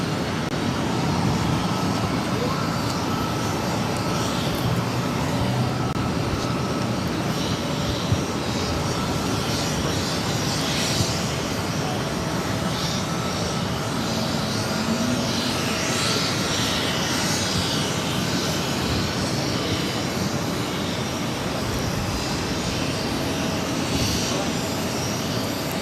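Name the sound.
Spirit Airlines A320neo taking off at Boston Logan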